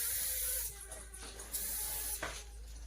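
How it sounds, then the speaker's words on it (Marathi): Wound spray hissing from an aerosol can onto a cow's wound, several short faint bursts of spray over a quiet background with no talking. "ज्या ठिकाणी जखम असेल त्या ठिकाणी स्प्रे मारायचा"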